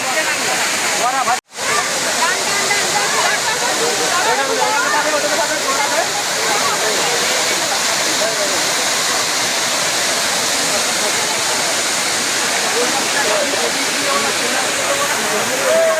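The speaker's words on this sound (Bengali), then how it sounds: "আরেকটুকু নিচে নামলে ঝর্ণাটা আরো ভালো দেখতে লাগতো" A waterfall at Ayodhya Pahar in Purulia gives a steady, loud, continuous rushing roar that barely changes. There is only a brief dropout near the start.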